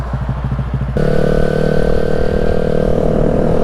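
A 2020 Honda Grom motorcycle engine runs steadily while riding, close and loud, and a sharp step up in level after the first second gives a thicker, harsher engine drone that holds to the end.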